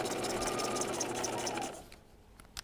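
A sewing machine stitches through dress fabric and zipper tape in a steady, close, fast run for under two seconds, then stops, leaving a quieter tail with a couple of small clicks.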